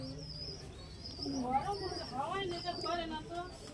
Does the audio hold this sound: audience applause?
no